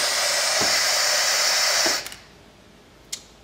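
A Piab vacuum gripper pulls suction on a metal honeycomb part with tape on its underside, a steady loud airy hiss that cuts off abruptly, followed by a couple of faint clicks.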